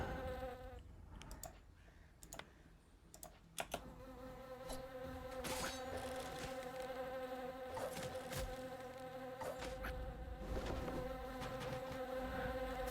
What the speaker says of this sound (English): Now we're just going to beat up on bees for a bit.